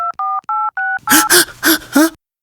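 Four short, steady two-tone keypad beeps in an even rhythm, followed by a burst of loud, noisy sounds with tonal squeals.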